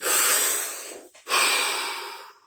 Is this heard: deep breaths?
yes